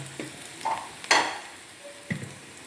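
Rice roasting in a pan with mustard seeds and dried red chillies gives a faint, low sizzle broken by a few soft scrapes and one sharper clink of a spoon against the pan.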